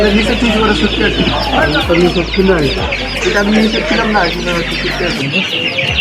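Chickens cluck and squawk in a busy poultry and bird market at Kathgora bazaar in Ashulia, Savar, Dhaka, a dense continuous chorus of fowl calls mixed with crowd chatter and low background rumble.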